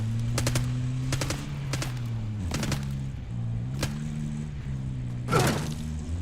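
Bursts of gunfire from the Call of Duty: Black Ops 6 campaign, several short volleys and single cracks spread over a constant low engine-like drone, moderately loud and without talk.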